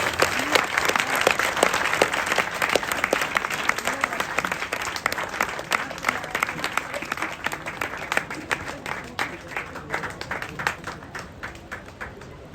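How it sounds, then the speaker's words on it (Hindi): An audience keeps clapping while teachers are honoured with garlands at a student felicitation ceremony, a long, steady patter of many hands at moderate distance that thins slightly toward the end. "तालियां बजती रहनी चाहिए।"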